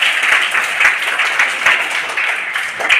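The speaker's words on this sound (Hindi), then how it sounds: "एक बार अपने लिए ज़ोर से तालियां बजा लीजिए" Children in an activity-based classroom session clap loudly for themselves, a dense burst of overlapping hand claps that holds steady and close.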